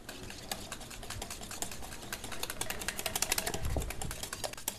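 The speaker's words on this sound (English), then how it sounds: "So let's put a little butter in here. Kind of chop up the butter." Butter being chopped into melted chocolate in a bowl, heard as dense, rapid tapping and clicking that runs steadily throughout, with a heavier, louder thudding stretch near the end.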